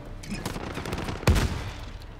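Rapid gunfire in the Modern Warfare shooter game crackles in dense bursts across the clip, peaking with one loud sharp shot near the middle.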